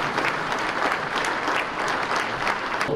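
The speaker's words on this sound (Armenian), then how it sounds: "դահլիճը հոտնկայս ու ծափահարություններով դիմավորեց Վլադիմիր Պուտինին ու Սերժ Սարգսյանին" A hall audience applauds Vladimir Putin and Serzh Sargsyan with a dense, continuous round of clapping, steady and fairly loud throughout.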